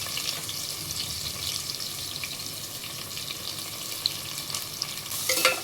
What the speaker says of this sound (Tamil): நல்லா வெங்காயம் பொன்னிறமாக வர மாதிரி நல்லா வதக்கிக்கோங்க